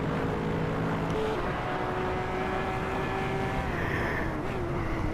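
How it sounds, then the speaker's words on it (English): Loud, steady engine drone of a race car in the Hot Wheels video game, a continuous buzzing roar with shifting tonal whines, alone and without talk. "His car is supremely loud."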